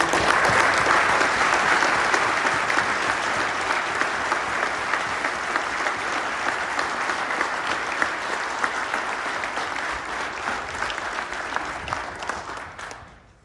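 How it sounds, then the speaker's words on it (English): Sustained applause from the audience at a fire department hiring and promotions ceremony in Troy, a dense, even wash of many hands clapping that holds steady for about twelve seconds, then fades out. "how about a round of applause"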